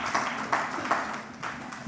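Audience applause at a health and wellness foundation's annual summit, a brief patch of steady clapping from a crowd, moderately loud with a few louder swells, heard alone without talk.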